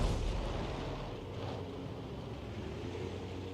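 Tank gun fire in the M12 video game, with Cromwell and Skoda tanks in the fight: a heavy low boom opens, then a long rumbling decay fades out over several seconds, with no talk over it.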